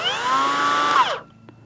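A Hyper Tough 12V cutoff tool whines at high speed against a 1/4 inch wooden lattice strip, a loud close tonal buzz that sags in pitch and stops abruptly after about a second, leaving quiet.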